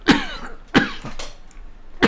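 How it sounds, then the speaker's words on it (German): Several separate coughs from a man, two strong hacking bursts and a few lighter ones spaced through the moment, close and dry with quiet pauses between, no talking. "Ich rauch doch gar nicht. Wie habe ich denn so einen Husten?"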